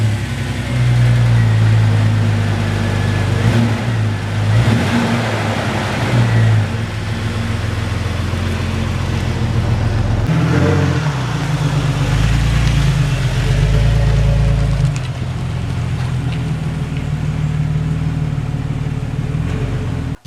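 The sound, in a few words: Jeep engine started and revved hard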